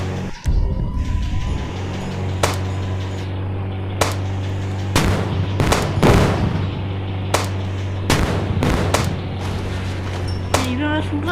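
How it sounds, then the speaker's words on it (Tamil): Gunfire in the Indian Bikes Driving 3D video game, with sharp isolated shots at irregular intervals over a steady engine-like hum, while someone talks in the background. "இவன் சுடுறாடே."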